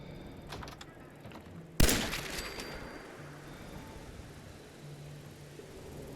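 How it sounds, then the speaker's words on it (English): A single sharp gunshot in the Fallout 4 video game cracks out over a steady hiss of ambient noise, its echo trailing off for about a second. "That was a lot of gunfire."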